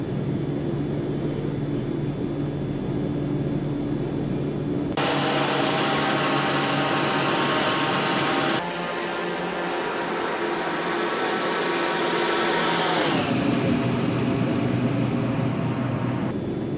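A Quest Kodiak turboprop engine in the X-Plane 11 flight simulator, heard as a steady loud turbine whine and propeller drone with abrupt shifts in tone as the sound switches between views, continuous with no talk.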